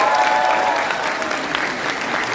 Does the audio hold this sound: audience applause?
yes